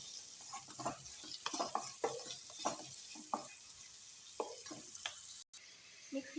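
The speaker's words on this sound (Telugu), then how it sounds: "మంచి రంగు వచ్చే వరకు వేయించుకోవాలండి ఇవి కూడాను" Ivy gourd pieces fry with salt in a hot pan for a masala curry, a steady bright sizzle running throughout while a spoon stirs and scrapes the pieces now and then, close and fairly loud.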